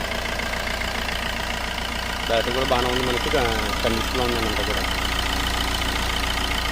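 A used Tata Zest car's engine idling with the bonnet open, a steady low rumble under someone talking nearby.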